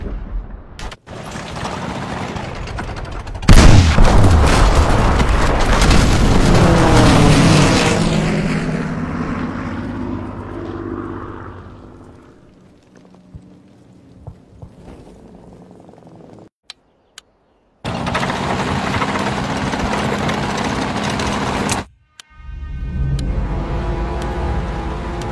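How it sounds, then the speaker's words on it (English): Enemy aircraft roar overhead in a World War II shooter game, a loud droning engine swell with explosive blasts and gunfire, then quieter rumbling before loud bursts of noise return. "Now their aircraft will bomb our forces."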